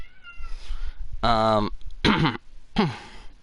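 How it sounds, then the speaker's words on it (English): A male house cat meows loudly and insistently for attention indoors, three drawn-out cries in a row with a throaty edge, close to the listener, after a short stretch of quieter murmuring. "my cat's meowing because he's crying because he wants attention"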